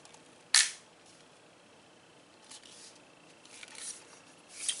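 A Schofield No. 3 CO2 BB revolver being cocked: one sharp metallic click, then a few faint, softer mechanical clicks and rubbing sounds in a quiet room.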